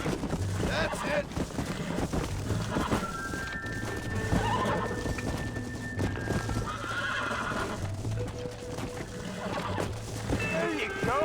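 A horse in the western video game Red Dead Redemption neighs and whinnies while its hooves clip-clop steadily, close and clear, with a voice speaking calmly among the sounds.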